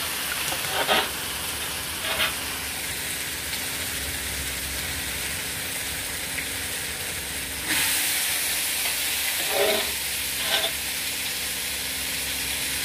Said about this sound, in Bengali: মশলাটা কষিয়ে নিয়ে এবার আমি এর মধ্যে দিয়ে দেবো সেদ্ধ করে রাখা সবজিগুলো